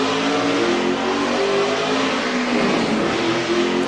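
Carl Edwards' stock car roars on board around the Sonoma road course during a Cup Series race, its engine holding a loud, steady high-revving drone with slight pitch shifts and no break throughout.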